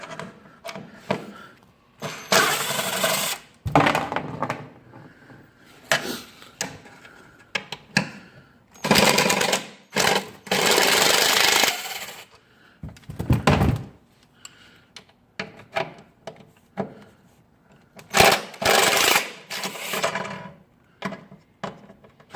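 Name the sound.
removing bolts on Polaris 850 Scrambler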